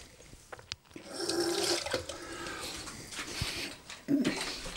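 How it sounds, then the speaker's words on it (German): Water poured into a pan of cooking instant creamy pasta noodles, a steady splashing pour heard close up with a brief sizzle or clatter near the end. "Und dann nehme ich mir dann immer noch ein bisschen Wasser und mache nochmal so einen Schluck Wasser rein."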